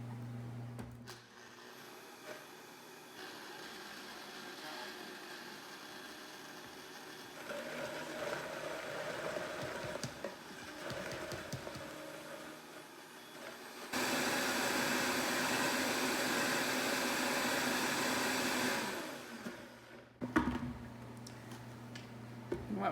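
A blender runs on soaked ingredients with roughly chopped garlic cloves for a vegan tofu ricotta, whirring and churning in uneven bursts, then roaring louder and steadier for several seconds before cutting off.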